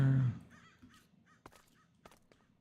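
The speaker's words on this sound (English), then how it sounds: "Crows are kind of annoying." Crows caw loudly and harshly at first, then several quieter, more distant caws and clicks follow in an irregular scatter.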